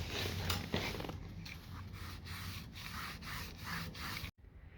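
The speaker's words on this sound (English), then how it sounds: "First we sand it." Steady abrasive sanding on a plastic number plate holder during paint prep, rhythmic back-and-forth rubbing strokes close up, ending abruptly near the end.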